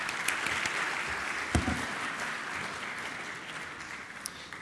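Audience at a CFO conference in the Middle East applauding to welcome the ICAP UAE chapter president to the stage, steady hall-filling clapping with a few louder claps, sustained and even throughout.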